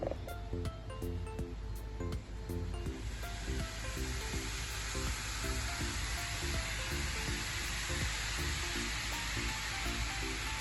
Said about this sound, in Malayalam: തീ ചെറുതായിട്ട് ഇട്ട് വെച്ചിട്ട് എണ്ണ തിളച്ച് കിടക്കുവാണ്